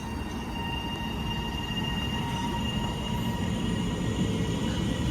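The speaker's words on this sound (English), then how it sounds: "now departing is 397-007, heading off to Glasgow Central" Class 397 unit 397-007 pulling out of Motherwell station toward Glasgow Central, a steady close rumble of wheels and traction motors with faint high tonal whines, heard alone without speech.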